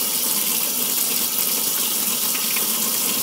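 Water gushes from a faucet as a makeup brush is rinsed with Palmolive dish liquid, a loud, close, continuous rush without speech.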